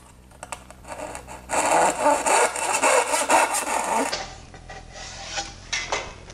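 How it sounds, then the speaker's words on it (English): Small pull saw cutting a notch in a wooden shim clamped in a vise, with a few light taps, then several seconds of steady, loud rasping strokes, followed by quieter scattered handling sounds. "clamp it in a vise where I can make quick work of that notch with a small pull saw"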